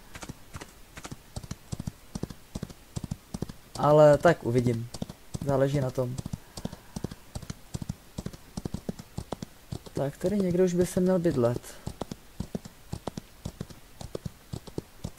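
Steady clip-clop of horse hooves in the Western game Outlaws of the Old West, with a rapid, continuous rhythm throughout and someone talking over it in short stretches.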